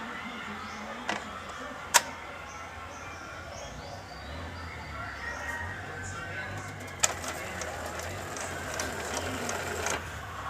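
An Epson L210 printer runs head cleaning with its roller moving, giving a low, steady mechanical whir with a couple of sharp clicks and a busier rattle near the end.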